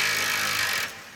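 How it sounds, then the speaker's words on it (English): An angle grinder works a steel Land Rover frame during prep for paint, giving a brief, steady high whine with gritty texture that fades out near the end. "So we went ahead and started grinding down on the frame and smoothing some rough spots out before we go on to paint."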